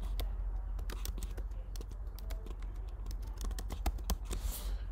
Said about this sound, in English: and keep typing.